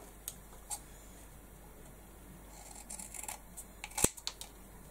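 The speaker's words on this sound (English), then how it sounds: "I just need to snip" Scissors snip through stencil material during a craft job, giving a few faint, sharp clicks spread apart, then a louder cut followed by quick small snips in a quiet room.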